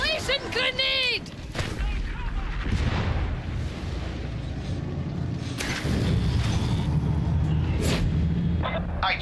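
Grenade blasts in the game Warhammer 40K Darktide: heavy booming explosions and rumbling impacts over a dense wash of combat noise, with a shrill voice-like chirp near the start.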